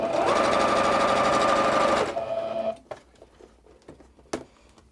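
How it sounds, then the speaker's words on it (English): A sewing machine runs steadily, sewing a straight stitch with a zipper foot through three layers of fabric and piping, a loud rapid whir that stops after two seconds and gives way to quiet handling clicks. "So I've put my zipper foot onto my sewing machine. And just with a straight stitch, lining all of those 3 pieces up, I'll sew about halfway down."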